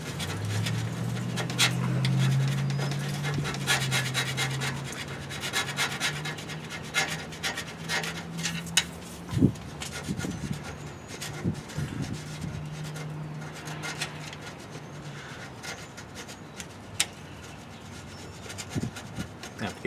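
A scraper works grease, gasket material and rust off the rear axle of a 2008 Chevy Suburban, giving a steady close-up rasping and rubbing with a few sharper scrapes and knocks, no talking.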